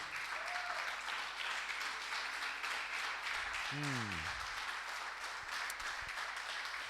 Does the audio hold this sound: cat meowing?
no